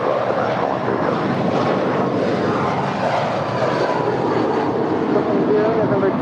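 An Airbus A350 heavy jet lands on runway 25 left at Los Angeles International Airport, its engines giving a loud, steady broadband roar that holds evenly for the whole stretch.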